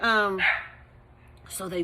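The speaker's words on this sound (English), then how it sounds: "the dog is having a loud voice over there" A dog barks loudly nearby, giving one long, strained bark followed by a short pause and then another bark, with a faint background hum in between.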